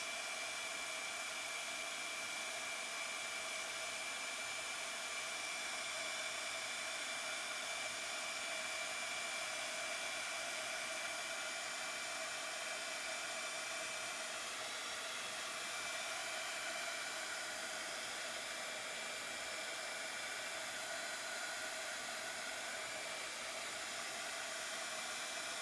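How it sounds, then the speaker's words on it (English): A heat tool blows hot air over paint on a rusty ephemera junk journal piece to bubble and set it, a faint, steady whooshing drone running continuously for over twenty seconds with no voices. "now we are going to heat this again because we want to bubble up the paint"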